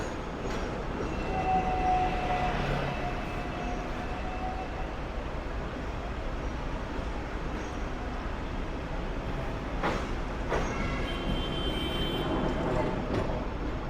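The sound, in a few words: Hong Kong trams on street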